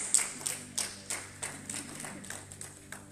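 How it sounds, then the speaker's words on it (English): Audience clapping at a Holy Ghost encounter church service in Atlantis, Bahamas: a run of separate sharp claps at an uneven rhythm, moderately close, with no one talking over them. "I like how you guys clap for my Jesus."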